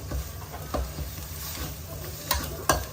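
Curry paste being stir-fried in a pan for fried red snapper with curry sauce, a low steady sizzle with scattered spatula scrapes and two sharper clacks near the end, no voices.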